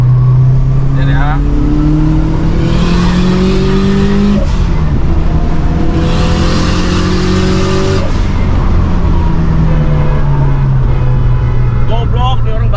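Subaru GC8 Type R two-door accelerating hard after a launch, engine note climbing loudly through rising revs with a gear change midway, close to the microphone while people talk over it.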